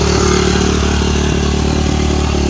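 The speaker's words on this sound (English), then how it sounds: "I think it's a YZ450." A Yamaha YZ450 dirt bike engine roars loudly and continuously at a hillclimb, a sustained rough high-revving buzz close by with no speech.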